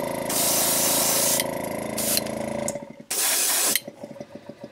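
A paint gun sprays base coat onto a lipless fishing lure in long, close hissing bursts that stop and restart, followed by a few short puffs and faint clicks.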